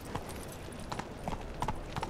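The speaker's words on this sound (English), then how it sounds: "Some reason my horse was running on the spot." Horse hooves clip-clopping in The Witcher 3 video game, a quick regular beat of hoof strikes with a steady ambient bed behind, moderately close and fairly quiet.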